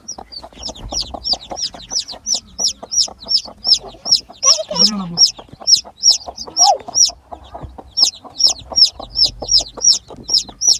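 A flock of chickens and young chicks, heard close and loud: rapid, evenly spaced high peeping runs through the whole stretch over low clucking, with a brief voice in the middle.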